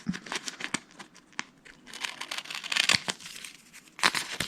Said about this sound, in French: Et avec mon ciseau cranteur, je viens découper